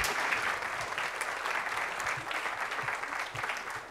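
Audience applause welcoming a scientist to the stage at a public science lecture, a dense sustained patter of many hands clapping at moderate distance.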